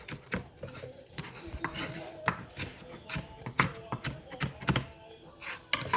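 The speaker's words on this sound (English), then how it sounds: "just gonna go ahead and slice these up" A knife slices through food onto a cutting board while cheeseburger soup is being made, giving a run of sharp, irregular chopping taps up close, with faint background noise between strokes.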